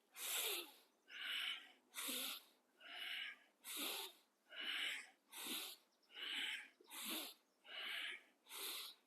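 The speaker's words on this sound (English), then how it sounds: "In and out through the nostrils this time" Rhythmic breaths drawn in and pushed out through the nostrils during a breathing workout, about ten airy, evenly spaced hisses close to the mic, each swelling and fading.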